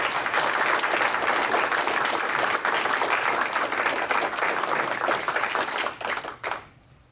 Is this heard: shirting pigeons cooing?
no